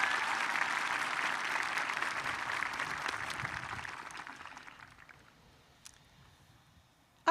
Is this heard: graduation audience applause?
yes